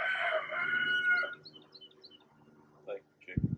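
A chicken crows close by, a loud drawn-out call in the opening second and a half, followed by quieter clucks and a few bumps toward the end.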